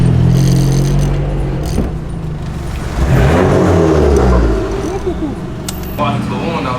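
A car drives along on the way to a car wash, its engine humming and shifting pitch as it accelerates, with people talking over the steady road noise.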